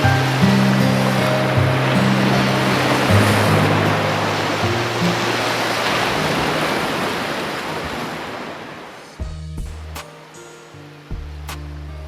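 Sea waves wash steadily onto a shore in a broad continuous roar with wind buffeting the microphone, the surf fading somewhat toward the end as a few brief low thumps break through.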